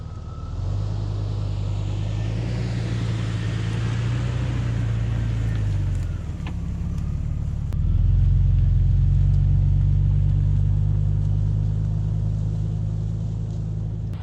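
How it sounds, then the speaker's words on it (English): A Jeep Cherokee XJ driving off-road gives a steady low engine rumble throughout, dipping briefly midway then returning louder and continuous, close and alone with no talk. "let's go ahead and drive the Jeep up here and see what kind of pictures we can get."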